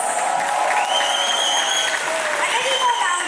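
A round of applause for a personal-development guest speaker at a Digital Scholar event: continuous, fairly loud clapping through the whole stretch, with a few whistles and voices rising above it.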